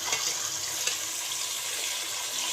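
Chicken frying in a pan until it takes on colour, heard as a steady, bright sizzle with faint stirring scrapes and no speech.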